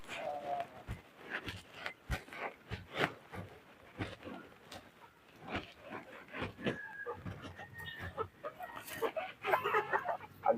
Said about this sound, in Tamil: ஒரு கோழி பிடிக்கிறோம்